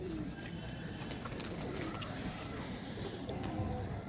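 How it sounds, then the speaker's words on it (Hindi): Soft pigeon cooing low under a steady hum of background noise, faint and continuous. "एक ये कबूतर कल पकड़ा है"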